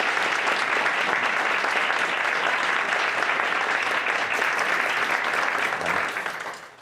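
Sustained audience applause at a Class of 2024 ceremony, a dense, steady wash of many hands clapping for nearly seven seconds before tapering off at the end.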